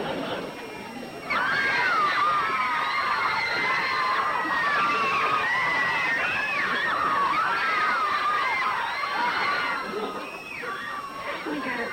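Crowd screaming continuously at a go-go dance event, a dense mass of high excited shrieks that swells after a second and holds loud for about eight seconds before easing off.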